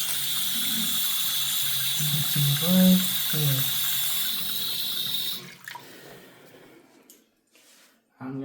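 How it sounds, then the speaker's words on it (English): Water runs from a leaking sink faucet handle, a steady hiss through the first five seconds while someone talks over it, then fades to quiet. "Right out the faucet handle, there's water leaking out"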